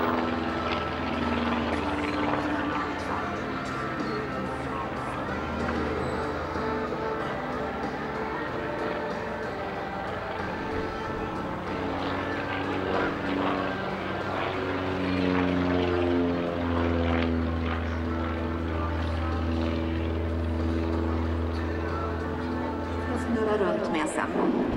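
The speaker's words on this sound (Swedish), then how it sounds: "Ska vi flyga först ett litet rotelpass med Mustangen och Spitfiren här på Jönköping i det fantastiska vädret." A P-51 Mustang and a Spitfire, propeller warplanes at the Jönköping airshow, droning steadily overhead with a throbbing, sustained engine roar that swells slightly near the end, while an announcer talks over it.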